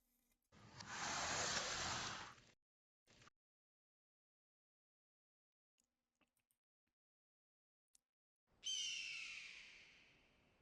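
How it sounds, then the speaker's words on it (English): An animated bird from an anime episode gives a harsh, squawking call after a loud rushing burst and a long near-silence with faint ticks. The call sounds close and ends the stretch. "A bird!"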